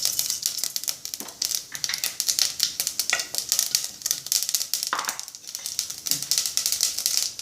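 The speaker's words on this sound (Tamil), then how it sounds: "இப்போ எண்ணெய் காஞ்செடுத்து கடுகு போட்டுக்கலாம். கொஞ்சம் உளுத்தம்பருப்பு," Mustard seeds and urad dal frying in hot oil for white channa sundal, a dense, continuous crackling sizzle with rapid popping and spattering throughout, close and steady, with no one talking.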